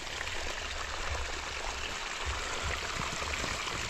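Water flows through a rice paddy, a continuous low rushing and trickling that stays steady and fairly faint throughout with no voices over it.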